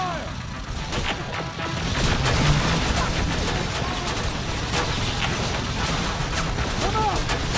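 Heavy gunfire, crashing impacts and clanking machinery fill a Terminator Resistance battle, a dense, loud barrage that swells midway, with brief whining sweeps and no clear speech.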